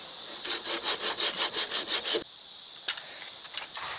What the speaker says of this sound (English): I'm going to go ahead and sand this down a little bit.